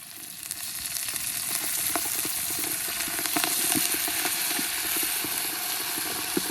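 Tomatoes and green chillies sizzle and crackle in hot oil in a pan while being fried for biryani, a steady close hiss with scattered pops and some stirring.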